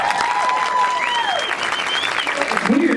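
Convention audience claps steadily at a fan convention panel, the applause running under a few overlapping voices and whistling tones.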